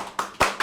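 A few sharp hand claps in quick succession, close and fairly loud, with short gaps between them in a relaxed conversational setting.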